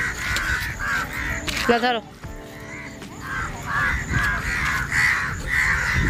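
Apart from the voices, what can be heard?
crows cawing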